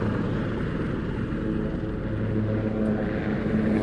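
Aircraft flying past at an aviation show: a steady, loud engine roar and rumble holds throughout without pause, with no talk heard.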